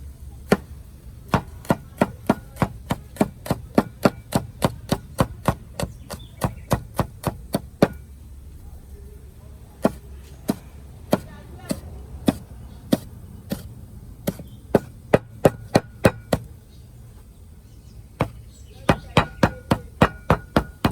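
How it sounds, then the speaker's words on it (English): A knife chops hot pepper on a board in a Guyanese backyard cooking setup, landing as sharp, close, evenly spaced thwacks in quick runs, with short pauses between bursts. "Let me get the knife over there to chop this up."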